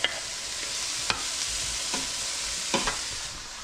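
Vegetables frying in butter in a pan over a camp cooking setup, a steady bright sizzle running throughout with a few sharp scrapes and clicks of stirring, close and alone without talk.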